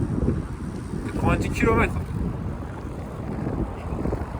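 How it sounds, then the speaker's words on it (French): Strong wind roars steadily into the microphone on a long endurance ride, a constant rough buffeting with a brief spoken word in the middle. "Il y a toujours un vent de zinzin."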